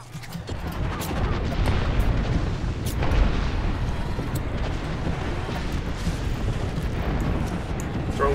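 Grenade blasts in the shooter game Apex Legends: a sustained, dense rumble of explosions and bursts that continues steadily without a break, with no talk.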